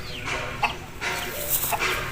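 A long-tailed aseel rooster clucking nearby in short, scattered calls, several soft clucks spread across a low background, ending with a sharper call, with no voices.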